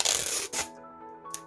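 Scissors slicing through a paper dress pattern to the tip of a bust dart, a quick close rustling snip followed by a soft paper rattle, with quiet background hum.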